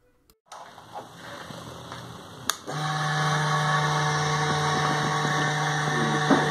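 On a Benelli TNT 600i motorcycle, the ignition switches on with a click and the fuel pump primes with a steady electric whine and hum that holds at an even level, close and alone.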